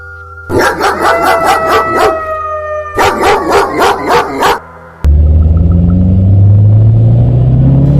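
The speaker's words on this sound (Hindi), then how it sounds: "उस जंगल में कुत्तों और उल्लू की जोर जोर आवाज आ रही थी" Dogs bark and howl in two rapid bursts, then a loud low rumble takes over; no owl is evident.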